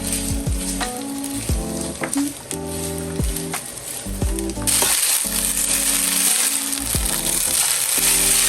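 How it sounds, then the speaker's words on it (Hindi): 250 g of boiled, salted spaghetti sautés in butter in a pan, giving a steady close sizzle broken by the scrape and clink of stirring, which grows louder and hissier partway through. "स्पेगेटी हमारे सौते हो चुके हैं बटर के साथ"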